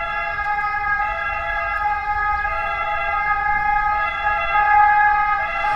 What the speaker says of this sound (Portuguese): eu vou dar um tempinho até passar uma ambulância aqui